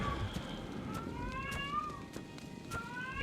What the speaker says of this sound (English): I'm going to see if I can't shut this cat up a little bit.